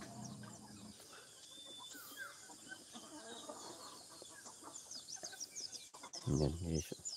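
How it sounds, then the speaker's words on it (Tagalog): Chickens cluck faintly around the recorder, with scattered soft calls over background noise and one louder burst near the end. "Nagsunodan sa akin yung mga manok kanina."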